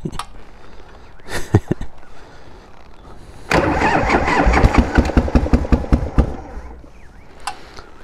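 A 1988 Harley-Davidson Heritage Softail with sidecar, cold after sitting unridden, cranks with a couple of short starter attempts before catching into a loud, lumpy rumble with irregular firing pulses, then dropping back to a quieter idle.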